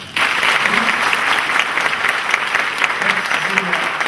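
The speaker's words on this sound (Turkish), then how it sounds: "Eşime de bir alkış lütfen." Sustained applause from an audience at a microcredit gathering in Şanlıurfa, steady and dense throughout with faint voices murmuring underneath.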